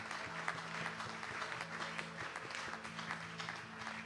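Congregation in a church applauding together, a steady wash of many hands clapping with a low hum underneath and no voices standing out.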